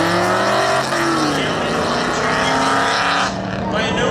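Drag racing cars launch at Seekonk Speedway with loud, close engine roars whose pitch climbs and shifts as they accelerate away. An announcer talks over the engines.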